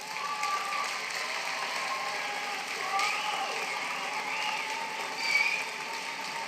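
Steady, sustained applause from an audience at the 2026 George McDougall graduation ceremony, clapping for the graduates' standing parents, filling the whole stretch as a dense, even roar of hands in a large hall.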